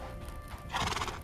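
A video-game horse in Hytale whinnies and clip-clops in a brief, close burst, the high neigh rising sharply partway through over rapid hoofbeats.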